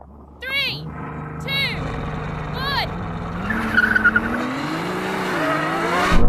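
A drag race car launches from the start line with a rising engine roar and tire squeal building over several seconds, loud and close, with a few brief chirps and talk early on.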